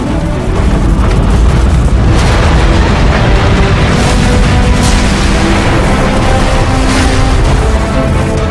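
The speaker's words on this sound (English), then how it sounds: "The neutron gun is activating!" Neutron gun activating in the video game Transformers: Fall of Cybertron: a loud, sustained booming rumble with repeated heavy bursts, dense and continuous from start to finish.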